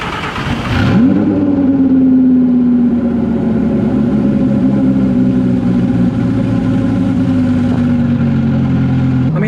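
A daily-driven 1200hp twin turbo Lamborghini starts with a sharp rev, then pulls away with a loud, sustained engine drone that holds steady and close throughout, with no voices.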